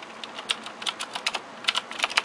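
Brisk typing on a Razer BlackWidow Expert mechanical gaming keyboard, a run of close, crisp clacking keystrokes in an uneven rhythm that quickens toward the end, with no voices.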